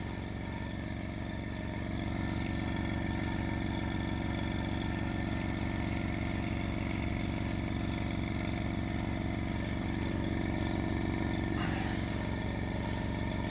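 Small budget air compressor for an airbrush running continuously, a steady loud mechanical drone with a fast pulsing hum, close by and unbroken, with no talking.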